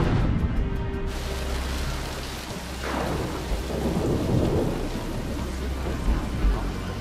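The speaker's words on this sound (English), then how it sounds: "Wow, that storm came in fast." A fast-arriving thunderstorm with heavy rain hissing steadily close by and deep rumbling thunder rolling through, the downpour constant and loud throughout with no talking.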